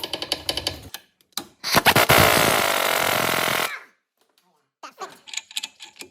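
A power tool tightens the shock absorber nut on a Mercedes W211 during driveshaft work, with short rattling bursts and then a long, loud sustained whir that stops abruptly, followed by quieter clatter.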